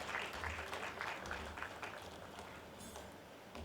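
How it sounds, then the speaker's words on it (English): A crowd at a business breakfast meeting applauds steadily, a dense patter of clapping hands heard from a moderate distance, continuing for a few seconds. "Let's welcome her with a round of applause."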